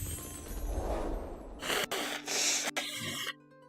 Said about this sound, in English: you're gonna hear a lot of me blowing my nose